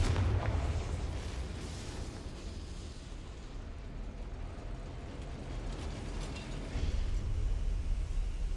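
A Confringo fire-blast spell in Hogwarts Legacy bursts with a deep rumbling explosion, its low roar rolling on steadily before a second heavy surge near the end.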